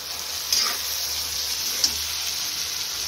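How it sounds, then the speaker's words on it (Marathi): Green chillies fry in a pan over a high gas flame while fried rice is cooked. A steady, close sizzle with a couple of brief sharper crackles plays without any talk. "तर अशा प्रकारे मी मोठ्याच गॅसवर आपलं हे फ्राय करून घेत आहे।"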